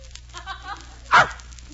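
A dog gives a single short bark, loud and close, after a moment of faint murmuring in a quiet room.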